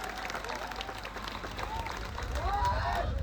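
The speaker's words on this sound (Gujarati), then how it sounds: "બધા માટે એકવાર જોરદાર તાળીઓ પાડી લો" Crowd applause and cheering at an outdoor political victory rally in Rajpipla, a steady broad wash of clapping with faint voices mixed in, sustained and slightly swelling toward the end.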